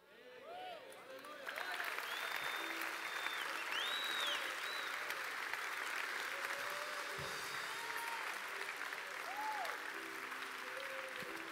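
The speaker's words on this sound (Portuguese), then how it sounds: "Você pode aplaudir o Senhor mais forte" Church congregation applauding the Lord during a Portuguese-language sermon, a sustained wash of clapping that swells after a quieter start and holds steady, with shouts and raised voices scattered through it.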